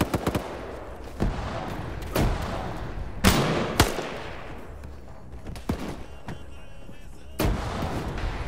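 Grenade explosions in a video game battle: a string of sharp, booming blasts spaced a second or so apart, one especially heavy burst in the middle, with a low rumble between them.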